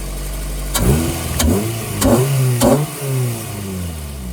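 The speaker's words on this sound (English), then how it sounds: "gonna go ahead and do some revs" A Honda car engine, an Integra GSR, idles, then is revved four times in quick bursts, each rising sharply and falling back, loud and close.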